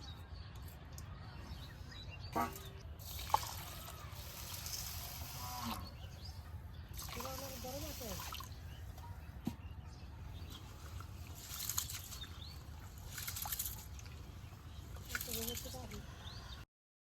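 Rice, lentils and vegetables are rinsed in water inside a large pot in a village kitchen, making faint, intermittent splashing and sloshing against steady background noise, with occasional bird chirps.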